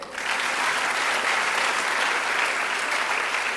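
An audience claps for an award winner at a memorial lecture event, a dense, sustained burst of applause that starts abruptly and holds at full strength without talking.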